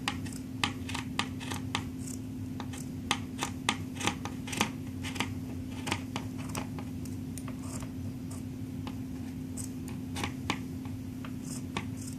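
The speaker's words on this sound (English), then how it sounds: "I'm going to go ahead and start cutting on this side and then we'll match up the middle" Scissors snip through a shirt being cut into a tie-dye tank top, a series of crisp close clicks and cuts in an uneven rhythm over a steady background hum, with no talking.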